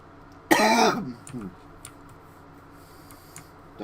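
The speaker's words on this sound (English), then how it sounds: "that's not a corona cough, that's just my irritating, you know, like I was saying before, cough cold thing" A single hoarse cough from a person with a cold comes loud and close near the start. A smaller throat sound follows it, then faint clicks over quiet background.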